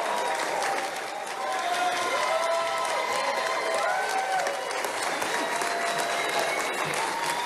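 A rally crowd in Georgia applauds and cheers for Kelly Loeffler as she takes the stage, dense sustained clapping with scattered shouts and whoops throughout.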